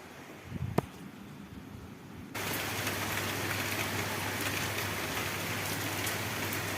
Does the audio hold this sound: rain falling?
yes